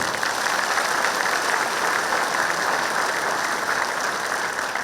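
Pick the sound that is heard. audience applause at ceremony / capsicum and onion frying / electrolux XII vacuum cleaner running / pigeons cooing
audience applause at ceremony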